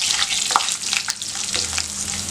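Black pepper, cashews and spices sizzle and crackle in hot oil for ven pongal, a steady close frying hiss with small pops throughout.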